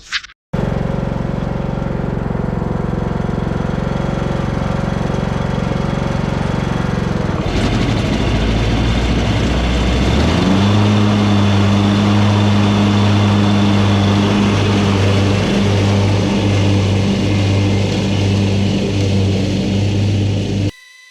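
A key-start lawn mower engine cranks and runs after a carburetor replacement, a loud steady drone that shifts pitch partway through and settles into a strong, even hum before cutting off.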